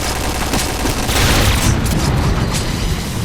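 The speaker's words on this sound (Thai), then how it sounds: "ระเบิด" A loud, dense rumbling blast with crackling debris fills the whole clip, an explosion in a Clash of Clans war attack, steady and overwhelming.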